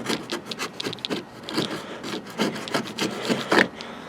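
Sandpaper rubbing back and forth over a buildup of cured JB Weld epoxy, a steady series of close, scratchy strokes of varying loudness with no talking.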